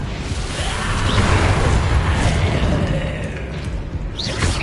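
The Confringo fire spell explodes in the Hogwarts Legacy video game, a heavy booming blast with a rushing whoosh and crackling debris that swells and fades, loud and near.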